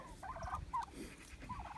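A turkey on pasture gobbles in several short, warbling bursts, moderately close but fairly quiet, over low outdoor background noise.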